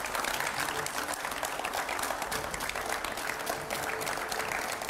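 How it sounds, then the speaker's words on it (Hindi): Loud, dense applause from a studio audience on a Hindi news channel greeting a politician, steady crisp clapping holding at full strength for the whole stretch without speech. "जोरदार तालियां हो जाए।"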